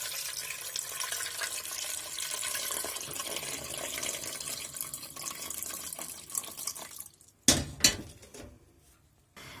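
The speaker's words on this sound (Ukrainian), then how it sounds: "я вливаю холодною водою." Cold water pouring from a tap into a pot of washed eggs, a steady hissing stream that cuts off near the end, followed by a couple of sharp clunks of the pot.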